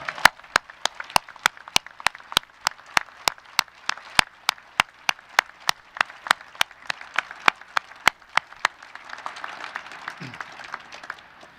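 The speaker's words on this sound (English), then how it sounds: "Let's give them all a round of applause before we start." At the keel laying ceremony for submarine USS Wisconsin SSBN 827 at Quonset Point, the crowd applauds the shipbuilders. One close clapper beats a sharp, even rhythm over softer scattered applause, which carries on alone after the steady claps stop.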